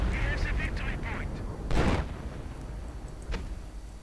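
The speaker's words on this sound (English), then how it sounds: "Artillery going in, I imagine." Artillery in a real-time strategy battle game fires in a series of sharp booms, a quick cluster of shots followed by a heavier blast and a later single report, with faint game effects around them.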